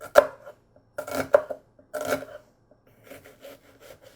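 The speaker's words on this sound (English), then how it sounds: "I'll chop up some vegetables for my mushroom sauce. I start with the onion." Onion chopped with a sharp knife on a board: three quick bursts of close, crisp cuts, then a run of lighter, softer cuts near the end.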